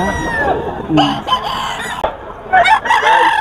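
Roosters at a Bocaue poultry market crow loudly and up close, with a couple of drawn-out calls and bursts of clucking in between. The calls overlap one another against a busy background.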